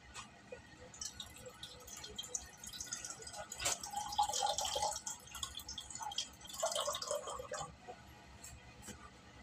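Second rice-washing water is poured into a pot of fish soup, giving soft close splashing and dripping trickles that come and go in a few bursts, fairly quiet overall.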